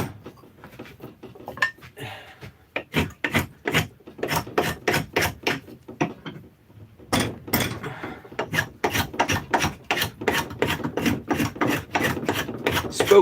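A spokeshave shaves wood stock for a cobbler's hammer build, producing a long series of rhythmic, rasping scrapes in quick strokes, with a short pause midway before the strokes resume, close and fairly loud.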